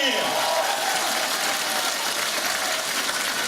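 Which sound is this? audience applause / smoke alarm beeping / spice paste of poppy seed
audience applause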